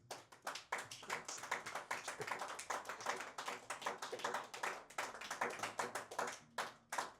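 A church congregation claps steadily through a morning worship service, the applause dense and continuous with a few bursts of cheering, briefly thinning toward the end.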